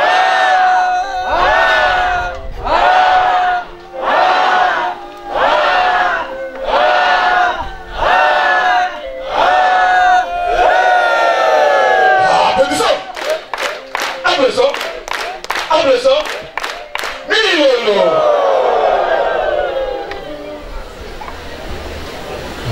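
Church congregation at a thanksgiving service honouring choirs shouts rhythmic acclamations in a series of loud, evenly spaced bursts, then breaks into a rapid volley of clapping and cheering that fades at the end.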